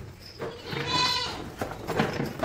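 A goat kept alongside cattle on a farm bleats once or twice nearby, a wavering cry over outdoor background noise.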